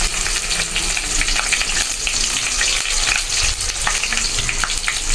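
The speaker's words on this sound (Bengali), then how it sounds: "বন্ধুরা মশলাটা ভালো করে কষিয়ে নেব" Onion with garlic and ginger paste fries loudly in a pan, a dense, steady sizzle close up with stirring scrapes running throughout and no voices.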